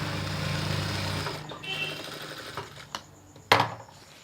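Sewing machine stitching a fold on a school uniform pinafore, a steady mechanical whir running for over a second, then stopping and giving way to faint handling clicks and a sharp knock.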